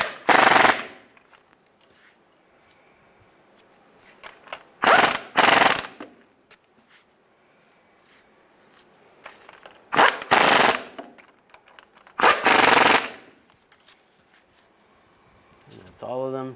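Ratchet tightening timing cover bolts on a 2007-2013 Chevy Silverado, loud bursts of rapid clicking in several separate runs with quiet gaps between them, close by.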